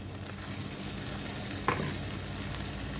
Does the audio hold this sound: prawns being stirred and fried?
yes